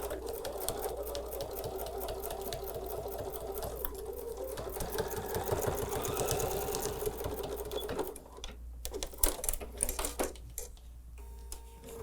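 Sewing machine stitching in the ditch along a quilt seam, a steady fast mechanical whir and rapid needle chatter running continuously, then slowing and stopping into irregular clicks and handling near the end.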